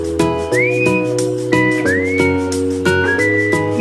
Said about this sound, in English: Here comes the whistle. I love the whistle.